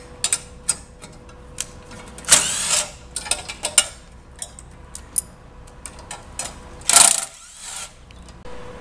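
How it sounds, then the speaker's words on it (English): Ratchet wrench loosening four 5/16 inch nuts on a motorcycle battery box, heard as scattered quick clicking bursts, close and fairly quiet, with a couple of louder rasping pulls. "we're going to remove the four BaggerWerx 5/16 inch nuts from the battery box"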